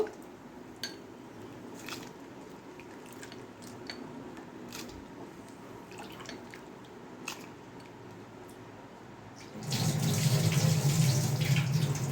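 Water poured into a pot for boiling sago, a faint background of small clinks followed by a sudden steady loud splashing rush of pouring water near the end, close to the microphone.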